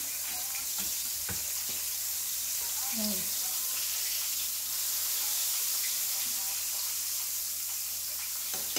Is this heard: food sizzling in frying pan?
yes